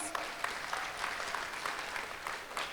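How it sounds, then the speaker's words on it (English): Crowd at an outdoor community festival hosted with a YMCA claps in a soft, distant wash, scattered sharper claps standing out over a short stretch. "Can we give them a round of applause, please?"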